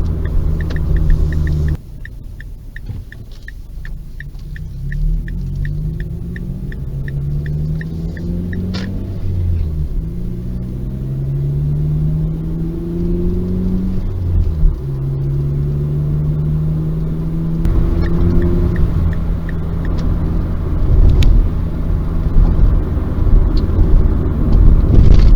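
A car engine idling steadily through a Spintech muffler exhaust, with a deep continuous rumble and several rising and falling revs in the middle, loud and close, no talking.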